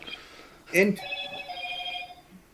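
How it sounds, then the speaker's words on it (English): A telephone rings once, fairly clearly, in a quiet room, with a sustained electronic bell tone that fades gradually after a brief burst of voice. "Someone's phone's ringing."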